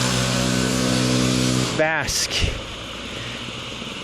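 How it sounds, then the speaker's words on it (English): A two-stroke engine running at dusk holds a steady, droning hum, then a voice briefly speaks over it before the engine carries on in the background. "The majestic sounds of a two-cycle engine at dusk"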